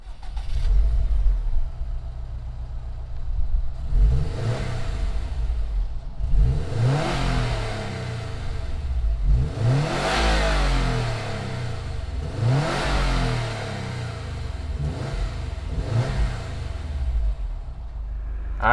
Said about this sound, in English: Let's go ahead and hear that boxer rumble.